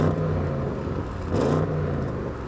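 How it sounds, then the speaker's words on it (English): High-performance sedan engine in its sportiest drive setting, revved hard and held against the soft rev limiter: a loud, close, steady droning roar that surges briefly mid-way, with no talk over it. "So I've got this one in its sportiest setting. Let's rev it up."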